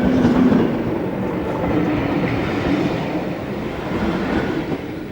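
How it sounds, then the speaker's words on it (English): A Sandite EPB electric multiple unit rumbles steadily past at close range, with a continuous rolling roar, faint wheel noise and no voices. "In the opposite direction, a Sandite EPB heads for Charing Cross."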